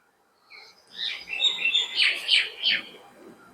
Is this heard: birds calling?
yes